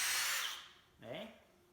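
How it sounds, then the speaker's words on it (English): A power drill fitted with a mixing bit churns joint compound, a loud steady whir that fades midway, then a brief rising spin-up as the drill restarts, with no talk. "this is the mixing bit, just on a drill"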